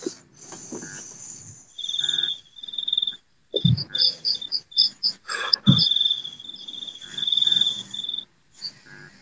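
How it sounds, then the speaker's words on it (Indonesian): Crickets chirping on a quiet night, a steady high pulsing trill that runs through the whole clip, broken by a few louder bumps and brief low sounds. "Ini jangkrik aja mau jawab ini."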